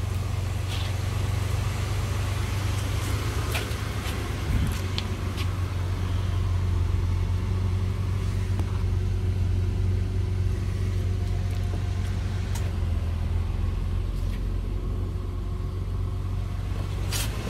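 An old car's engine idles steadily and close by, a continuous low rumble with a faint rattle and no talk over it, at an estate auction preview.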